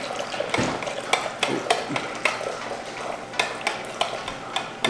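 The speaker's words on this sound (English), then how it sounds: "stir that in" Gelatin mix being stirred into hot water with a spoon in a bowl, giving a steady, close sequence of scraping swishes and light clinks repeating roughly every half second, with no voices over it.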